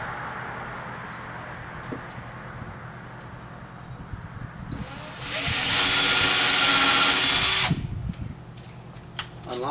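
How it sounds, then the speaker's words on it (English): Power drill boring a pilot hole in a board with a countersink bit, a loud steady high whir lasting about two and a half seconds, preceded and followed by quieter handling noise and faint talk. "And all you're doing is drilling a pilot hole to prevent any splitting."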